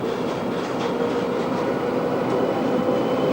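A 1989 Budapest tram ride on route 41 as another outbound tram crosses, giving a steady, close rolling rumble of wheels on rails with faint rhythmic clatter throughout.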